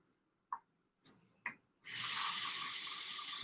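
A few quiet clicks and knocks from a kitchen tap are followed by water gushing out in a steady, loud, close stream that runs without a break to the end.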